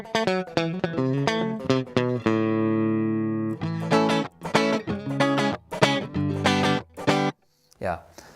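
Stratocaster electric guitar on the middle pickup position, played straight into a mixing console, with a run of plucked notes and chords, one long sustained ringing chord, then quick strummed phrases, clean and close.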